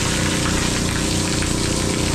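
A water pump gushes strongly into a fish pond with a steady, loud, dense rush of water that never lets up, with no voices over it.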